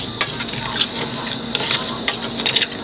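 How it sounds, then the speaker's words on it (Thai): Rice dry-roasting in a pan, stirred so the grains scrape and rattle steadily against the hot metal, with faint crackling and a constant close, busy texture and no talking. "ระหว่างที่เรารอหมูแล้วก็เอาเข้าวคั่วมาคั่วค่ะ"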